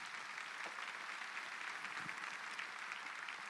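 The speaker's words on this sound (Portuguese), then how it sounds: "Você pode aplaudir a Jesus." A church congregation applauding during a Portuguese-language sermon, steady dense clapping with crowd noise throughout, fairly faint and distant.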